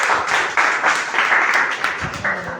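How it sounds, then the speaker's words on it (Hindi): An audience at a goal-setting seminar applauds, with a dense, continuous patter of many hands clapping at moderate loudness for a couple of seconds. "तो तालियां बजाएं इनके लिए"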